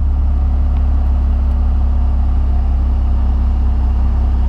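Mazda RX-7 FD3S rotary engine with an Apexi Power FC, running steadily at a loud, close, even drone with no clear rev spikes, alone without talk.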